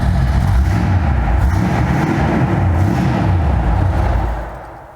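A 1957 Ford Ranchero with a 429 Police Interceptor V8 idles and revs close by, a deep, loud throbbing rumble that fades slightly at the end.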